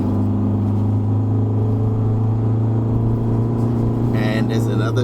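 A 2021 Isuzu D-Max X-Terrain pickup pulls in third gear on a mountain road, its engine droning with a steady low hum and constant cabin rumble, heard from inside.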